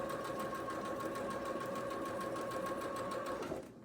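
A sewing machine stitches a churn dash quilt block with a quarter-inch foot, a steady close whirring hum that runs without pause for several seconds and then stops abruptly.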